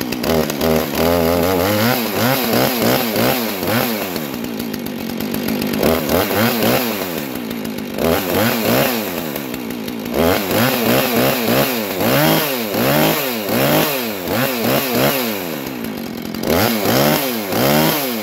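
A Husqvarna 450 Rancher chainsaw runs loud and close, its engine repeatedly revving up and dropping back to idle in rising and falling waves throughout.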